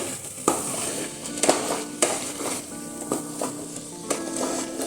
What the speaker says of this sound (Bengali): মধুটা দিয়ে একটু ভালো করে নেড়ে নেব